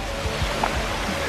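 Ocean waves wash against a rocky shore in a continuous loud rushing surge of water with no voices.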